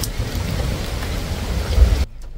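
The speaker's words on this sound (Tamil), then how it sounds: "மழை பெஞ்சிட்ருக்கு." Heavy monsoon rain pours steadily in Goa, a dense, loud hiss with low rumbling that cuts off abruptly near the end.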